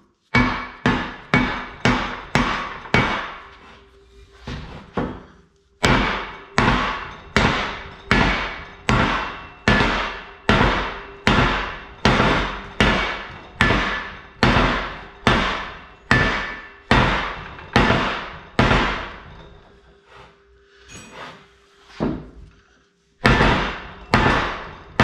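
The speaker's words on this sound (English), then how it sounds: "it should just pound in here with a little tap from a hammer." A 4-pound hammer repeatedly striking a shaved, frozen steering part into place on an FJ Cruiser solid axle swap, sharp metallic blows in a steady rhythm of about one per second, loud and close, with brief pauses between runs of strikes.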